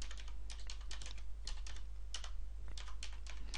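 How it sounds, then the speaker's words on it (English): Computer keyboard typing a short search query into Google, with quick, steady bursts of crisp key clicks at close range over a constant low hum. "So all we need to type in is keyword tool into the Google search."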